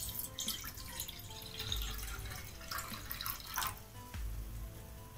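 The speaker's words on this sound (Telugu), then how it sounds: "దాంట్లో వాటర్ పోసుకుందాం" Water splashes and trickles into a pot on a stove in uneven bursts, faint and close, with small drips and gurgles between the louder pours.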